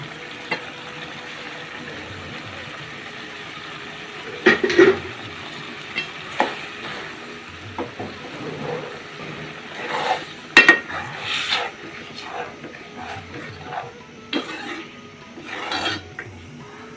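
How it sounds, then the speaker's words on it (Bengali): Boiled potatoes being stirred and fried in a pan for an egg and potato broth, with intermittent scraping and clinks of a utensil against the pan over a low, quiet sizzle, irregular taps growing busier later on. "সিদ্ধ আলুগুলো দিয়ে দিলাম।"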